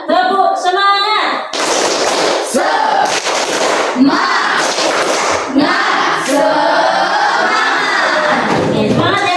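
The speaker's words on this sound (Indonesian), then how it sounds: "hitungan ketiga semuanya memulai tepuk semangat" A group of students performs the tepuk semangat, a rhythmic clapping chant, with loud bursts of patterned claps and shouted voices in a classroom.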